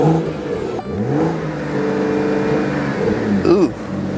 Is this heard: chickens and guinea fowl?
no